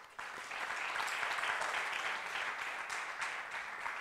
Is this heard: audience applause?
yes